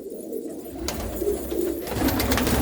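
Red pigeons coo in a coop, with soft, low repeated coos over a steady background hum that grows slightly louder toward the end.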